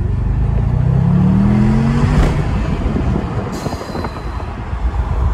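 A Bentley GTC with a 550 hp engine accelerates hard, a deep rising roar climbing in pitch, then giving way to rushing road and wind noise as speed builds.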